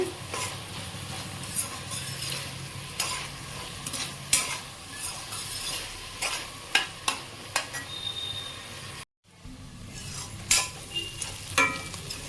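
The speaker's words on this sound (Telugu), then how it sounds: "ఇంకా ముక్కలు వేగుతున్నాయి కదండి." Chicken pieces fry in a pan for chicken curry, a steady sizzle broken by repeated sharp scrapes and clinks of a spoon stirring against the pan, close up with one brief dropout and no talking.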